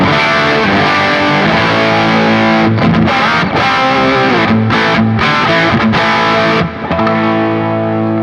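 Distorted electric guitar through the bridge pickup of a 1983 Gibson Les Paul Custom fitted with Timshaw pickups, loud, dense sustained chords with rhythmic short breaks and palm-muted stops, playing alone without talk.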